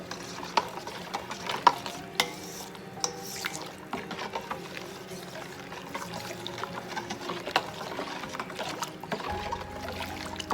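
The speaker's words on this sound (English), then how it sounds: "And then we'll give this a quick stir." A whey bread mixture being stirred in a bowl, with scattered light scrapes and wet clicks from the utensil, fairly quiet, plus a low hum near the end and no talking.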